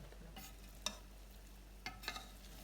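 Cooked rice being stirred and mixed in a pot, with a few soft scraping strokes and light clicks of the spoon against the side. Quiet overall, with no talking.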